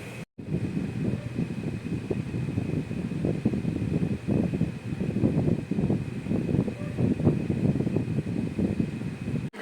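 A room air conditioner runs with a steady broadband whoosh and hum throughout, a constant close mechanical drone with soft fluctuations and a faint tonal whine, heard alone apart from a brief dropout at the start.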